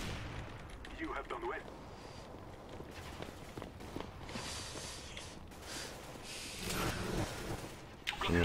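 Gunfire and footsteps from the video game CS:GO carry through a busy mix of distant shots and running steps, fairly faint, with a player's voice talking over the action.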